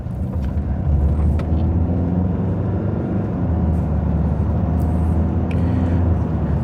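Heavy low rumble of road traffic rolling past at close range, a continuous engine and tyre drone that stays loud throughout.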